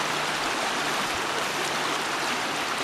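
A small river rushes along in a steady, broadband wash of flowing water, close and continuous, with no voices.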